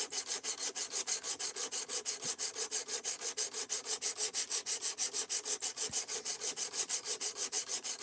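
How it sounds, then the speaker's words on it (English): A knife with a D2 steel blade is drawn across a guided sharpener at a 17-degree angle, giving steady rhythmic rasping strokes, about five to six per second, close and unbroken with no talk. "this is my 4th time sharpening it now"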